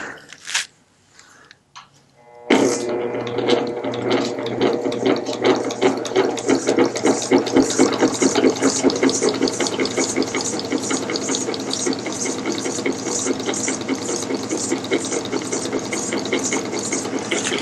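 A lathe spins a magneto fitted with its original condenser at about 300 RPM, making a steady fast mechanical clatter and whir after a quiet start, with occasional faint sparking.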